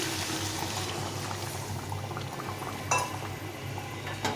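Boiled water is poured into a fish curry in a pan, a soft continuous liquid hiss and simmer with faint clinks of a utensil, close and quiet.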